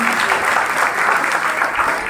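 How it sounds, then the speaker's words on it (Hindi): Audience applause at a spiritual discourse and question session, a steady dense patter of many hands clapping for a couple of seconds, close and fairly loud with no talk over it. "तो फिर ताली बजा दो एक बार"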